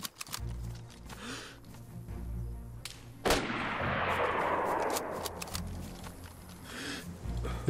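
Sharp gunshot cracks from an SSG 82 sniper rifle in DayZ, a few loud reports spaced through the stretch with one heavy blast followed by a long rolling echo, over a low steady game ambience.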